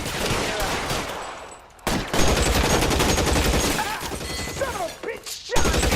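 Gunfire in the L.A. Noire crime game: a loud, close burst of rapid shots and sharp cracks, then more scattered bangs and impacts, with a brief lull after the opening volley and some talking mixed in.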